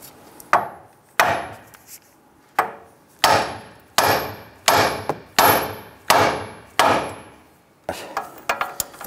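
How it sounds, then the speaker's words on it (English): A hammer striking the steering knuckle of a 2002-2008 Dodge Ram 1500, about ten sharp metallic blows at a steady, slightly irregular pace, close and loud, each ringing briefly before the next. "What I'm going to do next is I'm going to strike the top of the knuckle here."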